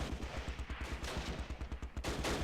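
Rapid machine gun bursts from a recon team in the WWII wargame Close Combat: Last Stand Arnhem, a steady stutter of close, sharp shots repeating for the whole stretch with a brief lull near the end.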